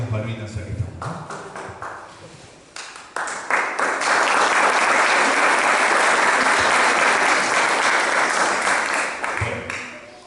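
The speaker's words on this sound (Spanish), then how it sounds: "Y también un aplauso," Audience applause at a book presentation, starting as scattered individual claps and a voice, then swelling into loud, dense sustained clapping from the crowd before tapering off.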